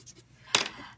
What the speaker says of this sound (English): Scratchboard, and I have these tools where you can scratch